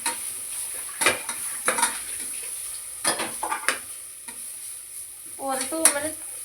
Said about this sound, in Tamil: ஒரு 2 மினிட்ஸ் நல்லா சாட்டே பண்ணி விட்டுடலாம்.